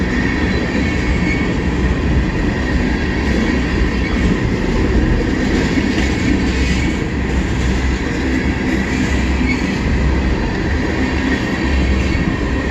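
A CN freight train rolls past eastbound at a rail meet in Emmett, Michigan: a loud, close, continuous rumble of wheels and railcars with faint rhythmic clatter, steady for the whole stretch, no talking.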